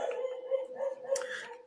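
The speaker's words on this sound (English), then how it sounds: "can you hear a dog barking right now" A dog barks and yips a few times in short, uneven bursts, moderately close, with a faint voice briefly in the background.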